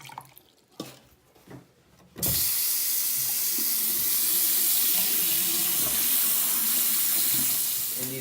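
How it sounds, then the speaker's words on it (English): Water gushes steadily from a tap into a laboratory sink, a loud, broad hissing rush that begins abruptly after a few quiet seconds with faint knocks and continues close and unbroken. "how much water to pour down the sink if you are pouring the chemical substance down the sink"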